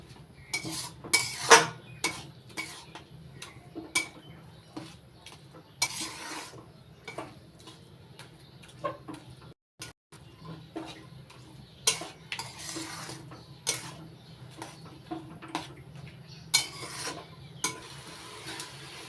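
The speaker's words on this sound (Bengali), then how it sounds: "এইভাবে মিডিয়াম আছে অনবরত নাড়াচাড়া করে জলটা শুকিয়ে নিতে হবে" Grated coconut is stirred continuously over medium heat in a kadai to dry off its water. Uneven scraping and rubbing strokes come and go, some sharp and loud, others soft, with brief pauses and no talking.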